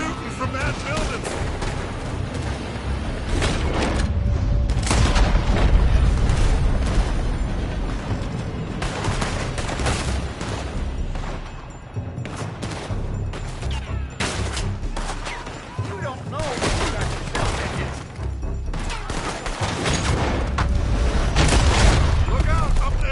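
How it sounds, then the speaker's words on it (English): Heavy gunfire rings out from a building in a Western town in Red Dead Redemption 2, with repeated loud shots and booming blasts over a long stretch, and voices calling out among the shots. "They're shooting from that building!"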